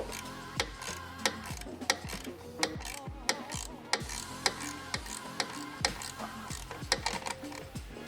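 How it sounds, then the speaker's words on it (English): A ratchet tightens bolts on a Nissan 350Z's Tomei dual titanium exhaust, clicking in a steady, close, repeated rhythm against a constant mechanical background. "And then grab a ratchet and a 12mm open-ended."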